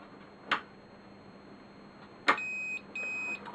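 An ENGICUT ignition cut-off unit gives a short click, then after a pause a sharp electronic chirp followed by two sustained steady beep tones signalling it is ready again, loud against quiet room tone.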